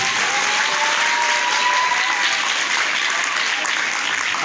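A school audience applauds at a ceremony thanking teachers and parents, a loud, dense, continuous clapping that fills the room from start to finish.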